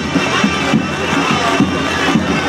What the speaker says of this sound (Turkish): Alkış yapıyoruz pehlivanlarımıza, alkış!